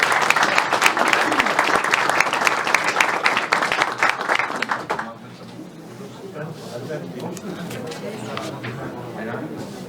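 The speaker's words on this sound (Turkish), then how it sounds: "Sayın Kılıçdaroğlu'nu da hep beraber alkışlayacağız." A political campaign audience applauds loudly and steadily at a CHP candidacy announcement in Ankara for about five seconds, then the clapping fades and a man's speech carries on over a quieter hall.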